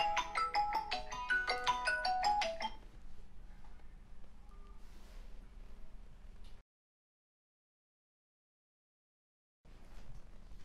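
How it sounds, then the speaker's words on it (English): A melodic mobile phone ringtone plays loudly for a few seconds, then stops, leaving quiet room noise and a brief silence. "your phone is ringing!"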